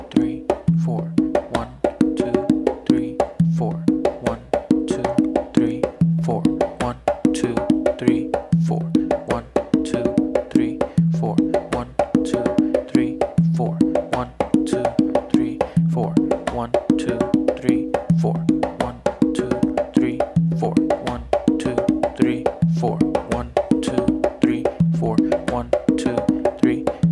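Conga drums play a slow, steady tumbao groove, a repeating pattern of open tones and slaps that continues evenly and loudly throughout without pause.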